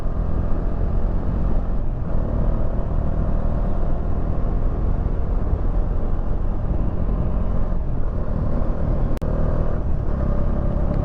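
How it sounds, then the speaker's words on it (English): A Bajaj Dominar 400 motorcycle rides along a road, its engine and wind rumble loud and continuous, steady throughout with one brief dip near the end. "It's a 400cc Indian motorcycle, Bajaj"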